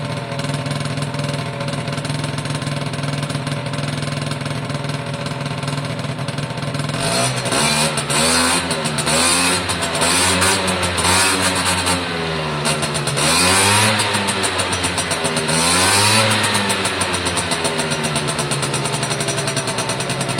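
A Suzuki AP50 two-stroke motorcycle engine runs after a carburetor clean, idling steadily at first, then revving up and down repeatedly with a buzzy rising and falling tone, close and loud throughout.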